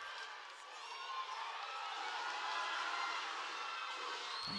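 A large crowd at a women's under-20 football match in Santo Domingo, Mexico against Haiti, gives off a steady distant murmur and cheering. The roar holds faint and even throughout with no clear voices standing out.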